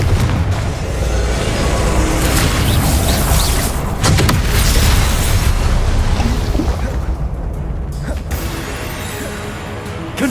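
Confringo fire spell in Hogwarts Legacy, rendered as continuous loud booming explosions with heavy low rumble and crashing debris, sustained for the whole stretch before easing slightly near the end.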